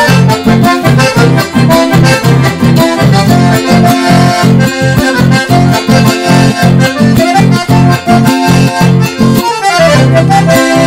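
A band plays a chamamé song: a loud, full ensemble with a steady rhythmic pulse and bright melodic lines running throughout, continuous with no talking.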